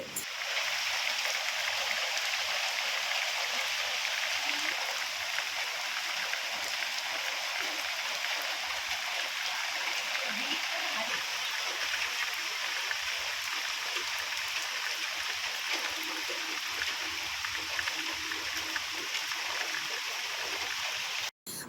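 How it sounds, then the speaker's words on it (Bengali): Light drizzle falls steadily over a town street, a soft, continuous hiss that stays even throughout without any talking. "মাঝে মধ্যে ইলশেগুড়ি বৃষ্টি হচ্ছে"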